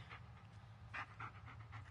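Dog panting in the Blair Witch video game, quick faint rhythmic breaths repeating over a steady low hum with no talk.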